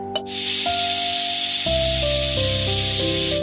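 A pressure cooker whistles while cooking moong for a Goan sweet ustal, a loud, sustained steam hiss with shifting tonal whistle pitches, following a brief click at the start, with no voices.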